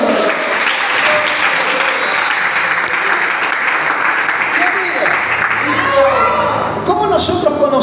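A church congregation claps and applauds loudly and steadily throughout, with a few voices and children's cries mixed in beneath the clapping.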